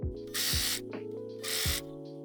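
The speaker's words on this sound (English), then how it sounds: "I am also going to serge off the excess from that gathering stitch" A serger sewing machine trims excess fabric from a gathering stitch while making a cosplay outfit, giving a steady mechanical hum with two bursts of faster, louder whirring stitching, close with no talk.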